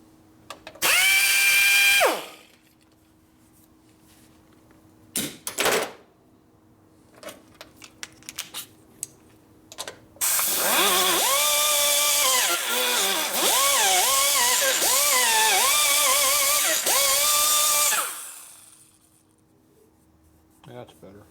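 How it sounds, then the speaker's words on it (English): Die grinder porting a 52mm OEM fuel injector manifold from a 2007–2017 twin cam touring Harley: a loud, high, whining bursts near start and middle, then a long sustained grind with wavering pitch for about eight seconds, quiet gaps between. "It helps to grind the spot you need to grind."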